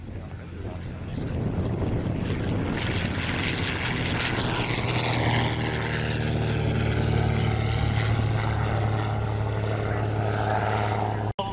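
Vintage propeller aircraft flying at an airshow, a loud sustained engine drone with a steady low hum and shifting whine, continuous throughout and overlaid with wind buffeting.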